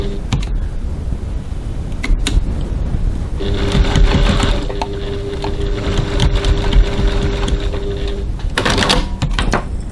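A sewing machine runs steadily for several seconds, stitching a seam while basting piping in place, with a sustained whir and faint mechanical hum heard up close, bracketed by brief handling noises.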